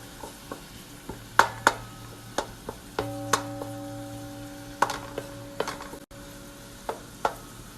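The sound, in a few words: diced garlic and onion frying in a pan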